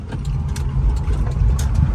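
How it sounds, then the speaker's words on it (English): Honda Acty kei mini truck engine running steadily while driving slowly in second gear on a farm dirt road, a continuous close low rumble with no talk over it. "it's very easy to drive a mini truck like that"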